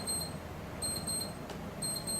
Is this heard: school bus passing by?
no